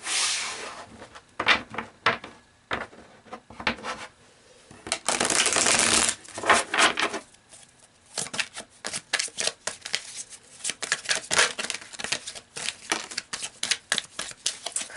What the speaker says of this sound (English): I feel like we need a shuffle on this one,